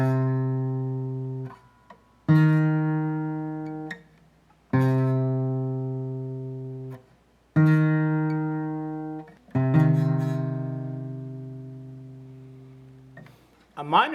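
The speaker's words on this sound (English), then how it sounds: "An augmented second." A sustained tone sounds with a second tone an augmented second apart, the pair repeating five times with short gaps, each decaying steadily before the next begins.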